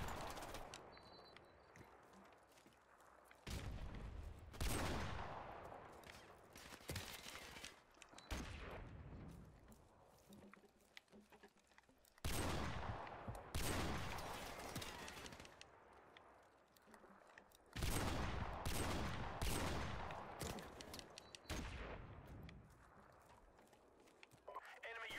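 Video game combat in which bursts of gunfire alternate with booming grenade explosions, loud and dense in several waves with quieter gaps between.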